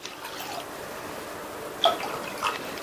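Half a cup of water trickles and drips into a pan of boiled milk, with a couple of brief splashy pours standing out over a steady low background hiss.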